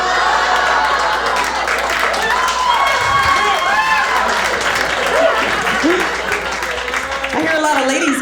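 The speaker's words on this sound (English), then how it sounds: "I hear a lot of ladies clapping." A stand-up comedy audience claps steadily through the whole stretch, a dense, loud wash of applause mixed with crowd cheering and voices.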